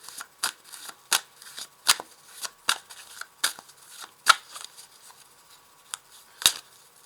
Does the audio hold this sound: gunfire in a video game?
no